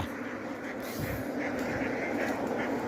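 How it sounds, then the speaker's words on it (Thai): Ducks raised in a farm field quack in a steady, fairly loud chorus, with overlapping calls filling the whole stretch against outdoor background noise. "มีคนเอาเป็ดมาเลี้ยงตรงจุดนี้"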